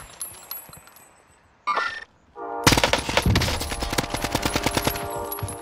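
Rapid automatic gunfire in Modern Warfare Warzone, a loud sustained burst of closely spaced shots after a couple of brief sharper noises, with no talking.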